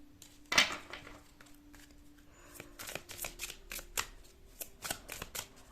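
Tarot cards being shuffled by hand up close: a sharp riffle near the start, then a run of crisp, rhythmic card slaps and flicks, fairly quiet with no talking.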